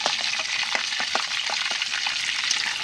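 Fried chicken pieces for a chicken roast sizzle loudly in a pan as they are lifted out, a dense steady crackle broken by short scraping clicks, with no voices.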